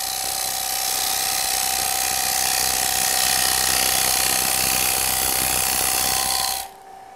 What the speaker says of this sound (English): The cutter is now shearing through the fibres of the grain.